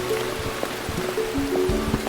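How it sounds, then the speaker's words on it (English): Rain patters steadily in the horror game Burnhouse Lane, a continuous wash of drops with scattered low thuds and tonal game sounds layered over it. "Bloody rain."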